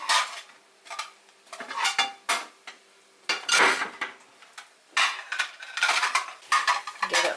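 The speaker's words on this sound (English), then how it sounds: "Turn it off and give it one more stir." Eggs stirred in a pan with a utensil, a run of uneven metallic scrapes and clinks against the pan in irregular bursts with short pauses, close and fairly loud, no talking.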